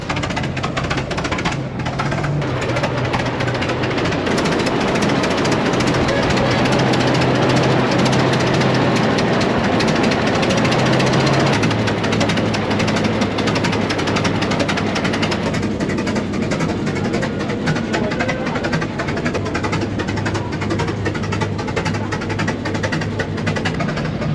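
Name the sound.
old two-cylinder tractor engines running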